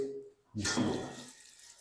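About a litre of water gushes into a pot of soaked chickpeas for Lahori chana, a short close splash and pour that swells, then tapers off into quiet.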